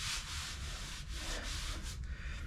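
Body filler on a car's rear quarter fender being hand sanded with a flat, steady block, producing a loud, continuous scratchy rasp in rhythmic back-and-forth strokes, close up with no talk.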